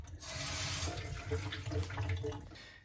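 Cold running water pours steadily over Japanese rice being washed in a kitchen sink, a continuous close splashing rush with soft shifting gurgles throughout.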